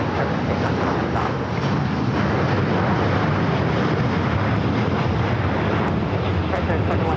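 A heavy airliner takes off from runway 25 right at LAX, a loud, continuous deep engine roar holding steady for the whole stretch without a break.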